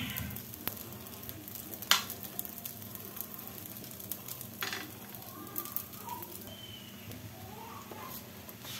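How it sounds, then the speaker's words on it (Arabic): Faint, steady sizzling of semolina pastries cooking in an oiled Lamacom pan, with a soft crackle and a few light taps and clicks scattered throughout and no speech. "انا عندي هاد لاماكوم هادي درتها دهنتها بالزيت صافي درت فيها الفطائر ديالنا"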